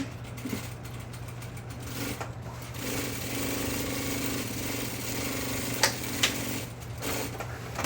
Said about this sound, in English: So I'm going to start sewing here.